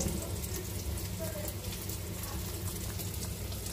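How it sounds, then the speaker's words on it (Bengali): Pointed gourd and teasel gourd frying in a pan give off a steady, soft sizzle and crackle that carries evenly through the whole stretch, with no voices over it. "আর এই যে আমার পটল কাঁকরোল ভাজা হয়ে যেতেছে"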